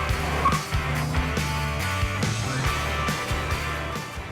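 A Subaru Impreza with a 2-litre turbocharged flat-four engine of 280 horsepower drives past at moderate volume, with engine tone rising and falling through gear changes against steady road and tyre noise.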